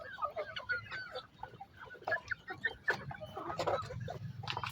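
Hens cluck steadily at a farm during evening feeding, many birds overlapping in a busy, close chorus with fluttering and scratching beneath.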